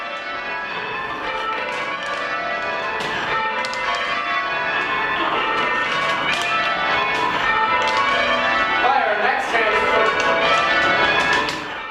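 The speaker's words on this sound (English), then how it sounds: "We just ring all 8 bells at the exact same time, and it's this fantastic crashing noise." All eight church bells rung at the exact same time on a campus, producing a loud, dense crashing clangor of overlapping metallic tones that sustains and swells throughout without pause.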